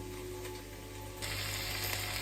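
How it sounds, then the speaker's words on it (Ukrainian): Potatoes and eggplants fry in a pan with a steady, close hiss and crackle that gets louder and brighter partway through. No one speaks. "Картопелька смажиться. Наші баклажани також."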